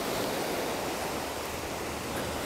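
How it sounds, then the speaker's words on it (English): Ocean surf washing onto a Bahamas island beach, a steady broadband roar of breaking waves with no breaks, fairly close and continuous, no voices. "It's located right in the Bahamas, and the waves are awesome here."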